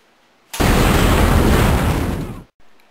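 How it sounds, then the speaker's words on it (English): A cooked grenade exploding in Call of Duty 4 produces one loud, sustained blast that roars for about two seconds before cutting off abruptly, with nothing else around it. "the outcome of cooking a grenade"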